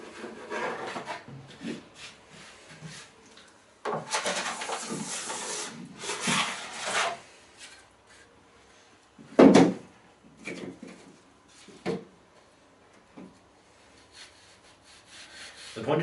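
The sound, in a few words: scraping wax off a snowboard base and edges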